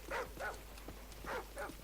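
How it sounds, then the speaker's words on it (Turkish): Dog barking in Call of Duty 4: Modern Warfare, four quick moderately loud barks in two pairs, close by, with no talking. "Köpek yine gelmesin."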